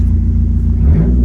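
Loud, deep truck-like engine rumble of a Dodge Neon SRT-4 idling close by, with a slight rise in revs near the end.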